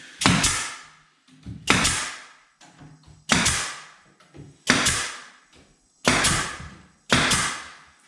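Slimline drywall cornerbead being fastened onto plasterboard with a pneumatic or staple tool, six or seven sharp snapping shots at roughly one-second intervals, each with a brief rattling tail, close and loud.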